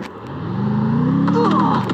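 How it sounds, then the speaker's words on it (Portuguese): A car in a video game drives off with its engine revving up, a close, loud tone climbing steadily in pitch for about two seconds. "Agora vamos sair daqui de carro."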